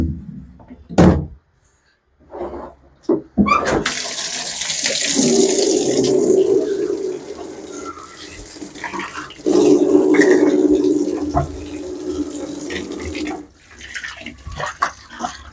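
Old water poured out of a crayfish tub while it is being washed, a loud, steady rushing splash that starts after a few short knocks and runs for about ten seconds before tapering off.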